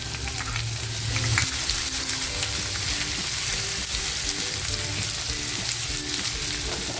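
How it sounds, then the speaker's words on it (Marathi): Sliced onion, garlic and ginger fry in oil in a pan, giving a steady close sizzle with occasional stirring scrapes and no talking. "थोडस तेल टाकते एक कांदा कापून घेतला होता तो टाकते आता लसूण आणि अद्रक पेचून घेतला होता"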